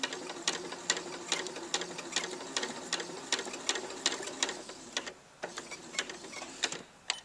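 A sewing machine stitches a seam in fabric with a 1cm seam allowance, running in a steady rapid mechanical chatter with regular clicks, close and fairly loud, with a brief pause near the end.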